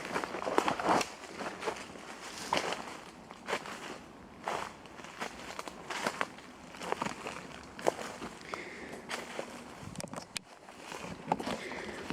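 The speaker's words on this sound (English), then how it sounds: "Thrashing through the undergrowth," Footsteps thrash and crunch through forest undergrowth, an irregular run of close crackling steps and rustling twigs that continues throughout.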